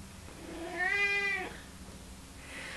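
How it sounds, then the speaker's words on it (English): A cat lets out a single loud, drawn-out screeching meow lasting about a second, indoors against a quiet background. "cat's screeching"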